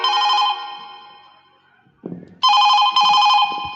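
Telephone ringback after dialing a number, two bursts of electronic ringing separated by a short pause, with a brief muffled sound in the gap.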